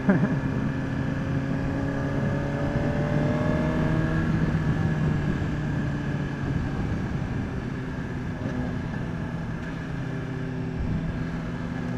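A Suzuki GSX-R1000R sport motorcycle engine drones steadily and loudly at close range, with rising rev sweeps as the quick shifter clicks through gears under continuous wind and road noise.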